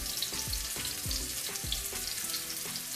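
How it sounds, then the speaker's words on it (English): Steady loud sizzling of stuffed bitter gourd frying in hot oil, with occasional low bubbling pops and clinks, continuous throughout with no talking. "Fry this side and another side."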